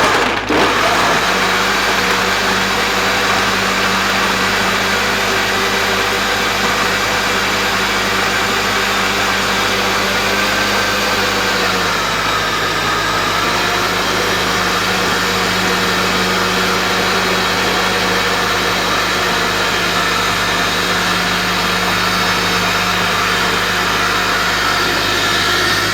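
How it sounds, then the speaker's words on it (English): A high speed blender whirs continuously through a chocolate smoothie made with water, a loud, steady motor roar that holds throughout with only a brief dip in pitch partway. "you need to use a high speed blender"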